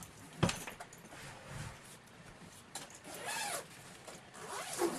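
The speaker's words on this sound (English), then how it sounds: "if you unzip this zipper here, it does expand out" Expansion zipper on a Samsonite ballistic nylon suitcase being pulled open, a run of soft scraping zip rasps with a few sharper clicks and handling bumps, close and fairly quiet.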